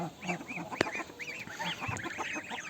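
White geese with newly hatched goslings honk repeatedly at close range in a farmyard, a flock calling in quick overlapping bursts with one sharp knock early on.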